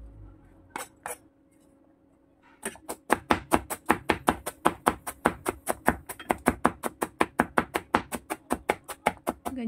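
A knife rapidly mincing shrimp or pork on a cutting board for dumplings: a couple of isolated chops, a brief pause, then a fast, steady run of sharp, loud, close chopping strikes.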